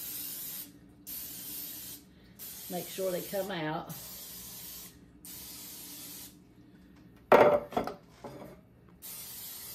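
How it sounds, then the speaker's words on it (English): Canola cooking spray goes into a muffin tin as a series of short, close hissing bursts with brief pauses between them. Someone speaks twice between the sprays. "We're gonna take our canola or any kind of spray that you have and just spray each one."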